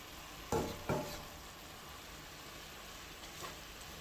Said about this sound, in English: And as you can see, my greens are still sauteing.